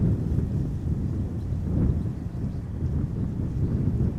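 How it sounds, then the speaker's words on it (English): Wind blowing at Amsterdam Schiphol Airport on a warm morning, a steady low rumble buffeting the microphone throughout, with slight swells and no voices. "The wind is lovely,"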